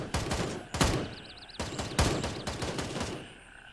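Gunfire from the tactical shooter video game Gray Zone Warfare, with M4 rifles: loud, close bursts of shots crack out in an irregular rhythm, with a few quieter rattling shots between the heavier volleys.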